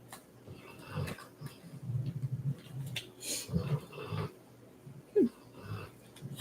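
A sleeping dog snoring and wheezing at midnight, irregular raspy breaths and snorts close by, with one brief higher squeak near the end.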